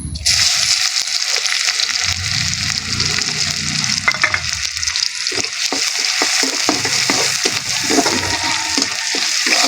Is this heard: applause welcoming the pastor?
no